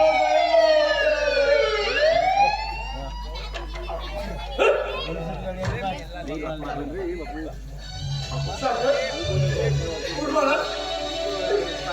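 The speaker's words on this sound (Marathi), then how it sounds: "मागावरती पोलिसांची गाडी आहे" A police car siren wails and sweeps up and down near the start of a Marathi stage drama scene, while a dog barks repeatedly and voices speak over the background.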